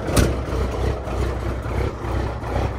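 Snowman, a truck, idling with a loping rhythm: a steady low engine rumble with a brief louder burst near the start, close and alone.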